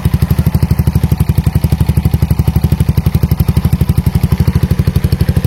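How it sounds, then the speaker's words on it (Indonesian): Yamaha Jupiter Z1 motorcycle with a Tsukigi aftermarket exhaust idles at cold start, a steady rapid loud putter of exhaust pulses, close and continuous, with no voices. "Untuk posisi cool start, suaranya seperti ini ya."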